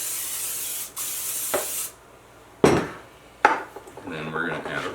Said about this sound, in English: now then, we're going to spray our pan